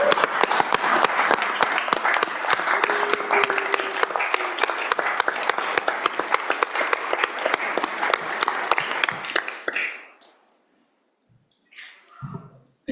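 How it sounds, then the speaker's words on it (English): An audience in a state senate chamber gives a standing round of applause, brisk distinct clapping that holds for about ten seconds, then stops abruptly, leaving a quiet room with a few small shuffles. "If everybody would stand and give them a clap."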